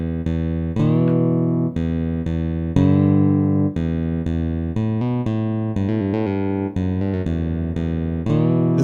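A guitar preset in the 4Pockets StringLab app plays a melodic phrase of sustained, bright plucked notes, some bent upward in pitch, in a steady run with brief gaps between phrases.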